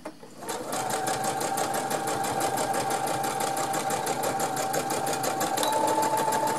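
A domestic sewing machine runs a straight stitch on fabric, its needle hammering in a fast, even rhythm that starts abruptly and continues at a steady, close, loud level without talk.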